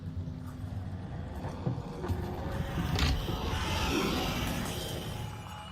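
The entity Rush tearing past the doors in the Roblox horror game DOORS, a dense rumbling roar with rattling, clattering noise that swells toward the middle and holds steady, with no talking.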